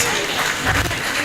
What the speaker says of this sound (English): Can we give the panel another round of applause, please?